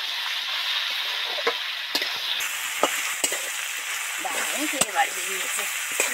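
Snake gourd and thin potato pieces fry in a pan with a steady crackling sizzle, broken by occasional scrapes and clinks of stirring, close up with a voice talking quietly over it.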